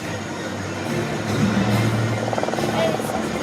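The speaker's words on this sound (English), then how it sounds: "The attack helicopters, having accomplished their objectives of providing air cover, are getting ready to escort the Chinook safely" A low, rumbling drone of military attack helicopters escorting a Chinook builds and holds, with rhythmic rotor pulsing growing more noticeable toward the end.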